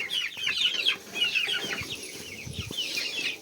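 Several chickens clucking and squawking nearby on a farm, overlapping bursts with a few soft thuds and rustles beneath.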